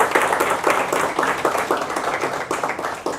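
An audience claps for a guest at a topper interview, a loud, sustained round of applause with an even, rapid patter of many hands and no speech over it.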